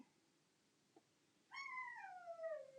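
A dog in a quiet craft room gives a single long whine or howl that starts sharply and slides downward in pitch. It follows a faint tap in an otherwise near-silent room.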